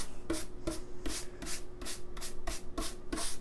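Sandpaper on a radius dish for guitar backs rubs in a steady back-and-forth rhythm, about nine strokes, each a close, hissing scrape with a light knock at the turn.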